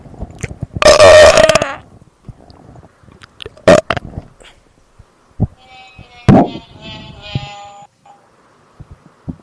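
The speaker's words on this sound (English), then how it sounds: "I love that belch." A loud, drawn-out belch bursts out near the start, followed by scattered clicks and a few short sharp pops with faint crowd murmur, set during a televised wrestling segment.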